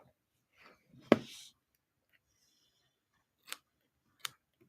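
Scissors snip once crisply and close, followed by two shorter, fainter snips after a pause, in a quiet room during a card-making session.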